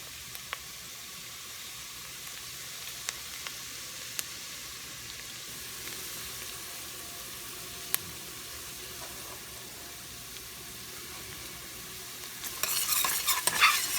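Garlic fries in a pan for a black bean dish, a quiet steady sizzle broken by sporadic sharp clicks of a utensil stirring, swelling into a louder burst of sizzling and scraping at the end; no one speaks.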